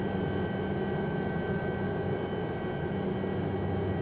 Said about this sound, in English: trying to maintain the chopper a little bit higher